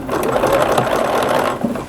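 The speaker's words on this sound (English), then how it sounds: "We're stitching on the other side of the sleeve." A sewing machine running continuously while stitching a sleeve seam on a New Look 6511 dress, a close, loud, fast mechanical whir with rapid needle ticking that eases off just before the end.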